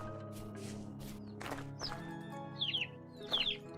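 Generation 10 chicks in the modded survival game Vintage Story, giving a few short high chirps spaced across a soft background with faint footsteps, no talking.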